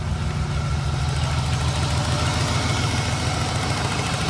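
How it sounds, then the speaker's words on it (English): A BMW E36 engine idles steadily at close range, giving a continuous low rumble with a faint mechanical vibration and no voices. "She's idling."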